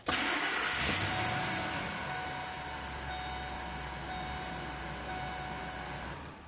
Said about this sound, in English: we want to start the vehicle and let it idle for about 10 to 15 minutes